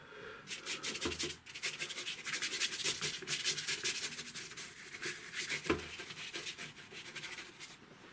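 A soft one-inch varnish brush strokes acrylic paint across a surface for an abstract river scene, giving a continuous close, dry brushing rasp with quick repeated strokes and no speech.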